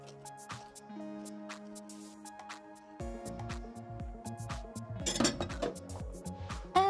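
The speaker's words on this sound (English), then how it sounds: "And we whisk." A whisk clinks and scrapes rapidly against a bowl while egg whites are beaten, a steady metallic rattle that turns faster and busier near the end, with no talking.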